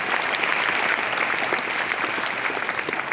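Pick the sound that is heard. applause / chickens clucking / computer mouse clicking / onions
applause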